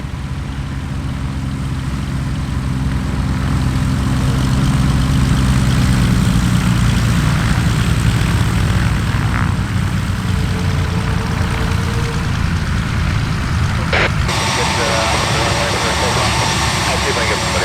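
A low-wing airplane coming in to land at Oshkosh, its engine droning loudly and steadily nearby, with a radio voice heard over the engine noise.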